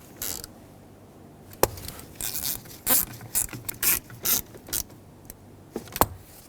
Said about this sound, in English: Now secure these by reattaching the 2 mounting screws.